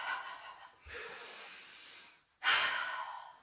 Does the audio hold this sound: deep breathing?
yes